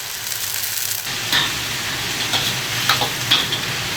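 Dried napa cabbage, added with dried chilies and sliced beef, stir-fries in a hot oiled wok with a constant close sizzle and light tool scrapes and ticks against the metal.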